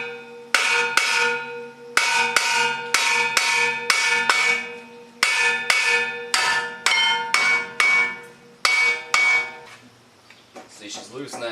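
Repeated hammer blows on a hand impact wrench freeing a rusty brake rotor on a 2004 Land Rover, sharp metallic clangs in quick bursts of three to five, loud and close, with a short pause between groups.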